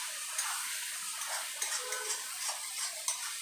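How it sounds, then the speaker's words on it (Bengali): Ridge gourd fries in oil in a wok, with a soft steady sizzle broken by repeated light scrapes and clicks of a spatula stirring, quiet and close. "বারবার নাড়াচাড়া করে দেবেন যাতে না লেগে যায়।"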